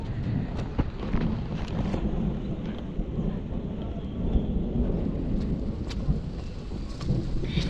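Steady rain pours over a countryside home while low thunder rumbles through, with gusts of wind buffeting the microphone; the downpour is continuous and close, with no voices.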